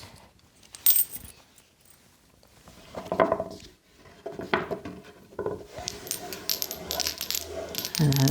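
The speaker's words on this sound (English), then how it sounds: "I'm taking 2 coins." Two coins tossed for an I Ching reading clatter and clink against a hard surface, first one sharp metallic drop, then a longer run of jingling rattles and settling clicks, close and fairly loud.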